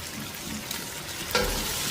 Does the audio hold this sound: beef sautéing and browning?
yes